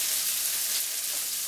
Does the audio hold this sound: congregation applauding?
no